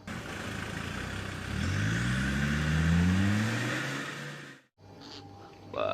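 An off-road toy car whirs up with a rising, revving engine-like pitch that sweeps upward over a couple of seconds, then cuts off abruptly into a quieter background, close and fairly loud.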